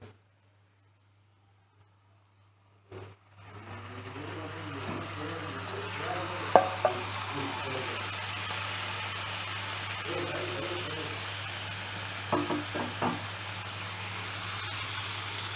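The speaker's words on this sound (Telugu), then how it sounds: "ఇందులోకి మనము ముందుగా నానబెట్టుకొని ఉంచిన చికెన్ని వేసుకోవాలి." Marinated chicken goes into a pan of fried onions after a brief quiet start, followed by a continuous close sizzle with stirring scrapes and a few sharper clinks.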